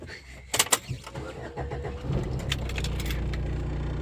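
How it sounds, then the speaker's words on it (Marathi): A car engine starts after a few sharp clicks and clatters near the start, then settles into a steady, low idling rumble that carries on to the end. "गाडी चालवते."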